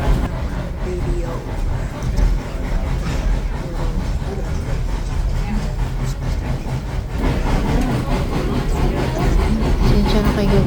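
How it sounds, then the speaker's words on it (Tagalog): A fast-moving train rumbles past loudly and close, a steady heavy roar of wheels and rail clatter that lasts throughout with no break, with no voices over it. "talagang ingay talaga ng train"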